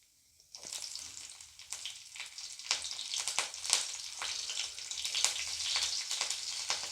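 Cumin seeds and green chili sizzle loudly in hot ghee, a crackling, spattering fry that begins abruptly after a brief quiet moment and stays dense and steady with sharp pops scattered throughout.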